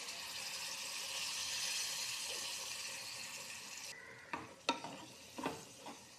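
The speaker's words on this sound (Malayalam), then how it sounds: "ഞാനിപ്പോൾ ഫ്ലെയിം ഓഫ് ചെയ്തിട്ടാണ് വിനീഗർ ഒഴിച്ച് കൊടുക്കുന്നത്." Vinegar is poured into hot prawn pickle with the flame switched off, a steady sizzle hissing for a few seconds before giving way to several close scraping stirs in the pan.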